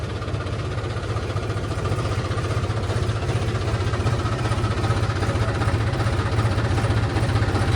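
A tractor engine runs steadily at idle on a sloping field track, a continuous low rumbling drone with a faint knocking pulse, loud and close throughout with no talk.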